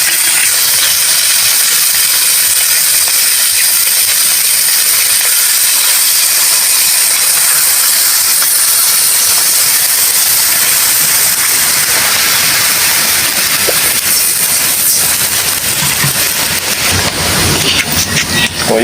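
Coke poured into a pan of sautéed pork hock for adobong pata sizzles with a loud, steady hiss of steam that holds throughout and grows rougher toward the end.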